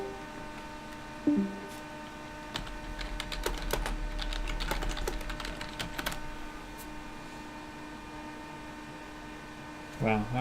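Fast, uneven typing on a computer keyboard, a flurry of close clicks over steady electrical hum, running for several seconds and then trailing off into quiet.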